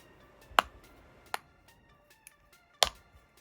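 A phone pressed shut onto its waterproof seal, a few sharp isolated clicks and snaps spaced irregularly, close and crisp against near silence.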